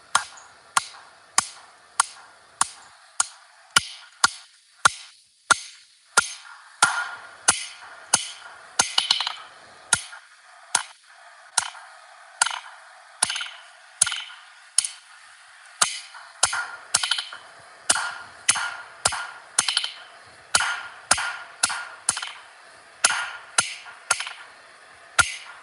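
A blacksmith's hammer strikes hot steel being drawn out and cleaned up at the forge, a long run of sharp, ringing metallic blows in a steady, quick rhythm, loud and close, with brief pauses between bursts.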